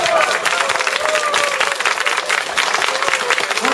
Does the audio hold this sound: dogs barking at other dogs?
no